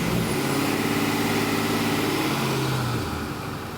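A Holley EFI-equipped LS-swapped engine cranks and catches, settling into a steady, close engine drone that fades slightly near the end, with no talking.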